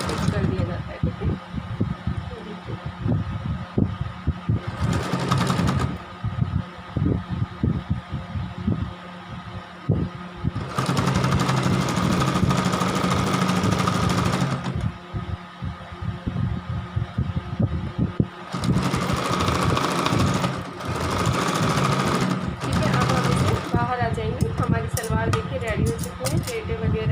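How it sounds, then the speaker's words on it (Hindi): A sewing machine stitches a salwar in bursts of rapid mechanical whirring and clatter, several runs separated by pauses, with someone talking throughout. "जो आपको लगे कि एक्स्ट्रा है उसे दबाते हुए यहाँ से स्टिच कर दिया जाता है"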